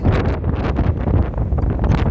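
Strong spring wind buffets an outdoor microphone near a trail area, a loud continuous roar of gusts with no talk.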